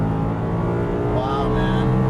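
An Audi R8 engine accelerates hard on a race track, a loud, close droning roar whose pitch climbs through the second half of the clip.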